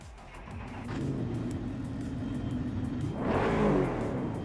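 Car engine revving in the RaceRoom racing video game, a steady mid-pitched engine drone that rises sharply into a louder rev near the end, with no talk.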